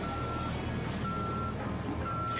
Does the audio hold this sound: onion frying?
no